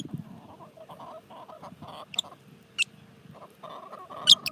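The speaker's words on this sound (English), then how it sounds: "The chickens are out here too. There's the one you're hearing." Backyard chickens clucking outdoors, soft scattered clucks with a few sharper, louder calls standing out, moderately near and otherwise quiet.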